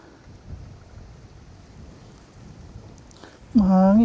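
Strong wind buffets a microphone outdoors on a small farm during house painting, a low, uneven rumble that rises and falls, before a voice suddenly starts speaking close up at the end.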